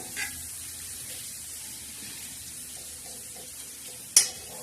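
Tomato and onion being stirred in a pan for a spicy bitter gourd curry tadka, a soft continuous sizzle with faint stirring scrapes and a sharp clink of a utensil near the end, no talking.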